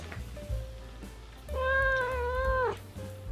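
A pet cat meows nearby: a brief chirp, then one long, loud, drawn-out meow, then a short faint call at the end.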